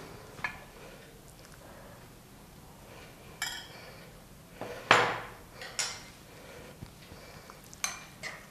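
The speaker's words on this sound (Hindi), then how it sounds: "और दही डालकर अच्छे से मिक्स कर लेंगे" A spoon mixes yogurt with black pepper, roasted cumin and black salt in a bowl for raita, making scattered close clinks and scrapes against the dish, with quiet gaps between strokes and no talking.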